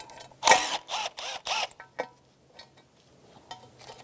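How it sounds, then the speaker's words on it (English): A ratchet clicks in quick bursts as 10mm nuts are loosened from the intake plenum of an Infiniti G35, followed by fainter metallic ticks and a pause. "Remove the 10mm nuts off the front and the back of the intake plenum."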